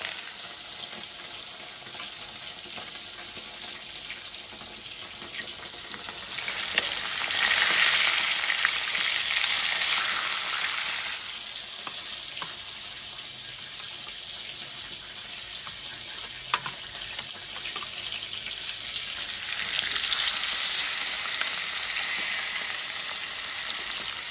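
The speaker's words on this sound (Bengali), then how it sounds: "মাছগুলো একটু লাল করেই ভেজে নেব।" Katla fish pieces fry in oil with a continuous close sizzle that swells into louder, crackling surges twice before settling back to a steady hiss.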